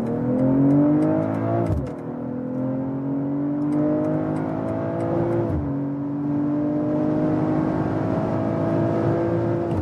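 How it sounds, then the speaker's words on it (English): BMW M340i pulling hard on the German Autobahn in Sport Plus, the straight-six engine rising in pitch through the revs with two brief dips at quick gear changes, loud and close from inside the cabin. "putting it in Sport Plus and also in the S shifting mode. And we'll get on to the German Autobahn for the first acceleration."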